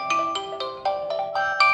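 A bright electronic OnePlus phone ringtone plays a quick melody of about seven chiming notes that rise and fall. It is clear and close.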